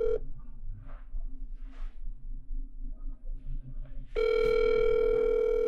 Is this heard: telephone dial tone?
yes